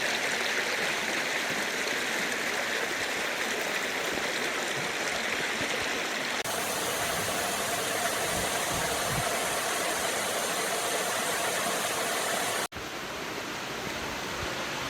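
Continuous broadband rush of flowing water, steady and moderately loud with no voices, like a stream tumbling over rocks at Kirimutti Ella waterfall in Sri Lanka.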